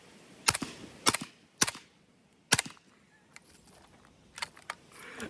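A Heckler and Koch SP5 SBR fires subsonic rounds outdoors, producing quiet, snappy pops with a mechanical clack, four evenly spaced shots followed by softer clicks and rustle, no talking.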